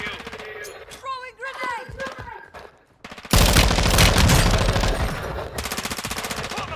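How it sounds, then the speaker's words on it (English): Loud, sustained machine gun fire from the Warzone 2 video game erupts after a stretch of radio chatter and mixed sounds, rattling continuously at close range with brief gaps. "Taking enemy fire."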